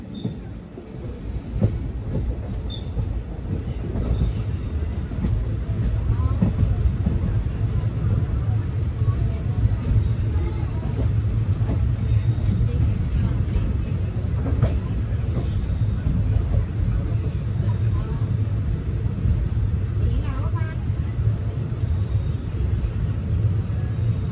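A passenger train, number 59559 on the Veraval–Bhavnagar route, rolls along with a steady, dense rumble and scattered wheel clicks throughout, heard from on board, with voices faintly underneath.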